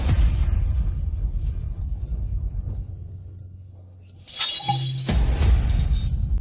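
A teacup drops and shatters on a hard floor, a single sharp crash of breaking porcelain with bright tinkling shards, landing loud and close after a quieter rumbling stretch.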